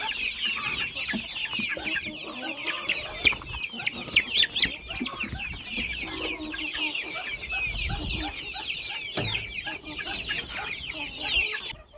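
Many chicks cheep in a dense, high chorus, with occasional clucks and soft rustling close by, in a farmyard with chicks, ducklings, turkey poults and goslings.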